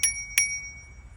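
Two quick rings of the handlebar bell on a pink titanium GS-5 folding electric bike, each a bright metallic ding with a short ringing tail, close and clear over a quiet background.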